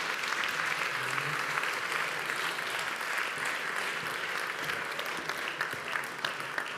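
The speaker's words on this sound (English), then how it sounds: "A round of applause, please." An audience at an awards event applauds steadily after a discussion, a dense wash of clapping that stays even and sustained throughout.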